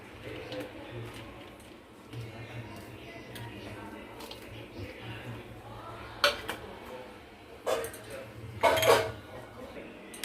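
Chopped pointed gourd being mixed with spices and rice flour in a bowl, with soft squishing and occasional sharp clinks of utensils against the dish, close and fairly quiet.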